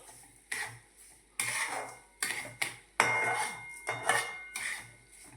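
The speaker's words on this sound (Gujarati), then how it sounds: "મોરસ નાખી દો, હલાવી દો બધું." A spoon stirs sugar into semolina sheero in a metal pan, giving close, repeated scraping and clinking strokes in uneven bursts with quiet gaps between them.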